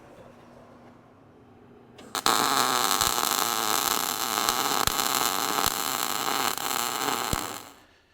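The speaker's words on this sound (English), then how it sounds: "All right, one more hinge pin to weld on." A steel hinge pin being welded onto a steel tray-bed: a loud, steady crackling hiss starts abruptly after a quieter stretch and runs for about five seconds with a few sharp pops before cutting off.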